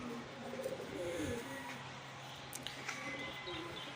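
Low, soft cooing of pigeons close by, a few throaty coos over faint background noise.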